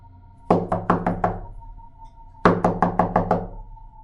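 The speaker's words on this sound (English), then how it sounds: "I heard a knock at the door." Knuckles rap on a door in two close, sharp bursts of about five knocks each, separated by a short pause, loud and alone over a faint hum.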